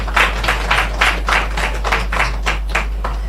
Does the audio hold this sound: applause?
yes